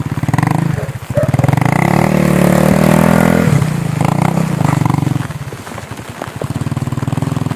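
A nearby Yamaha Mio scooter engine idles with a rapid throbbing putter, then revs up loudly for a few seconds before settling back to idle.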